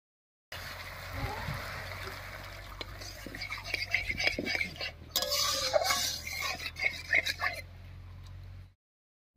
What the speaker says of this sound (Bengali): এবার ঝোলের জন্য অল্প করে জল দেব।